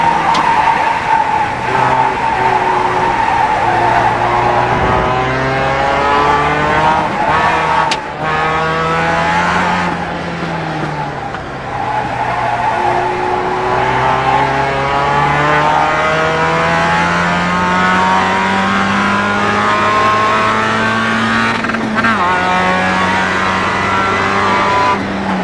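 Race car in the iRacing simulator, engine wailing steadily through rising and falling gear pitches with tire squeal and skidding, loud and continuous for the whole stretch with no talk.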